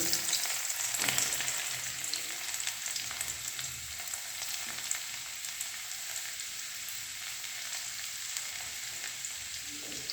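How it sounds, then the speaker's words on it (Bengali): Garlic fries in hot oil seasoned with whole cumin, a steady bright sizzle heard up close without pause and no voices over it. "রসুন ফ্রাই হচ্ছে"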